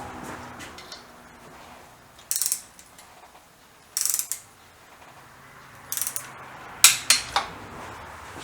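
A ratchet wrench snugs down bolts in four short bursts of rapid clicking, close and crisp, separated by quiet pauses.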